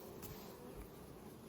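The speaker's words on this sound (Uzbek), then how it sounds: "Mana asallarni yaqindan oling." Carnica honey bees buzzing at an open hive, a steady close-up hum filling the short moment without any talk.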